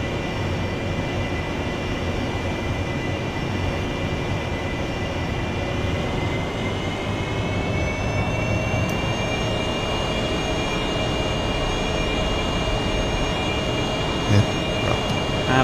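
An AV-8B Harrier jet engine roars during takeoff in DCS World, a loud, steady blast with a high whine that climbs slightly in pitch, heard alone without talk.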